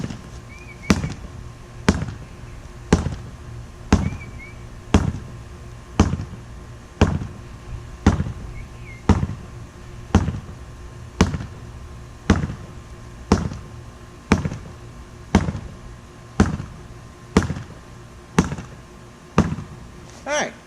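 Sword jab chops strike a wooden pell in a slow, even series of about twenty sharp thuds, evenly spaced, close and fairly loud, with faint background noise between strikes.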